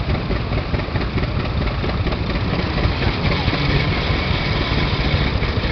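Engine of a 306 tractor idling nearby, a loud, rough, continuous rumble with steady low throb and no break.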